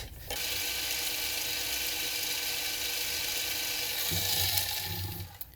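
A power drill whirs steadily at close range for several seconds, drilling metal, its pitch shifting lower near the end as it bites in, before stopping.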